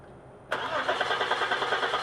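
An Audi B6 A4 3.0L engine with a no-start fault cranks with its fuel line disconnected, a sudden steady churning drone starting half a second in and holding to the end, close and fairly loud.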